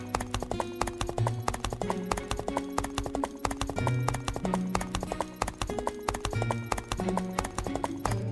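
Hooves of a horse being led clip-clop in a steady, loud, close rhythm of sharp strikes, with no talk over them.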